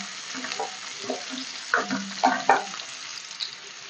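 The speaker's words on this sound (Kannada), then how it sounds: "ಫ್ರೈ ಮಾಡಿ ಈರುಳ್ಳಿನ" Chopped onions for a dhaba-style egg curry frying in a pan: a soft, steady sizzle with a few stirring scrapes and clinks close by, no talking.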